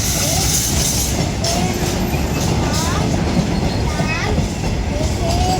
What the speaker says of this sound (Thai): วิ่งอย่างช้า ๆ จากสถานีรถไฟ ศรีสะเกดนะครับจะไปอุบลราชธานีนะครับ